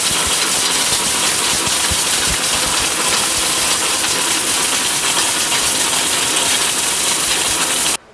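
A powerful kitchen blender grinds turmeric into powder, a loud, steady roaring whir running continuously at full power before cutting off abruptly at the end.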